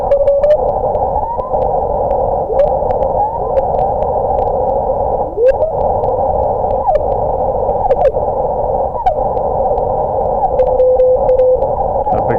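A steady, loud radio receiver tone with automatic gain control off hisses and hums continuously, with occasional swooping chirps and clicks cutting through the static.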